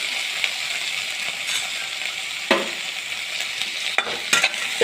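Chopped onion, tomato and green chili fry in hot oil with a constant bright sizzle, broken by occasional clinks and scrapes of a spatula stirring the pan.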